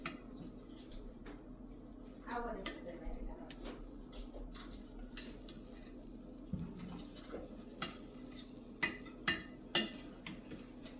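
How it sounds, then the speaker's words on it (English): A utensil stirs and flips cooked, flavored jasmine rice in a pot, with soft scraping and scattered clicks against the pot, growing sharper toward the end, under a quiet room hum. "I'm gonna mix it. Okay, you want to just flip the rice."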